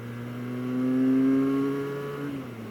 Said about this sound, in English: We'll go ahead and put it in third gear, and we'll hear some more of the RPM